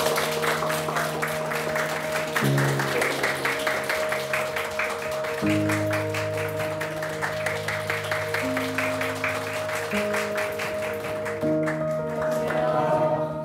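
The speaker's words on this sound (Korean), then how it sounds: "박수로 좀." Audience applause welcoming two guests, sustained clapping running under steady tonal background music with shifting held notes, moderately loud and continuous.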